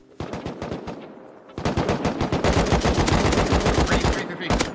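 Rapid automatic AK rifle fire in a video game, dense bursts of loud, close shots rattling off in quick succession, a brief lull, then a longer sustained stream of fire.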